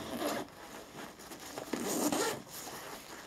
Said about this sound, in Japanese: そしてこのファスナーを開けますと